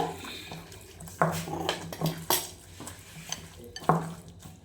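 Beaten egg added to pakora batter in a bowl and stirred: repeated scraping and clinking of a utensil against the bowl, uneven rhythmic strokes, close and moderately loud over a low background hum.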